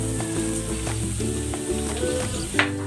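Chopped onions sizzle steadily in a frying pan while pork is cooked, a continuous crackling fry with light stirring clatter throughout.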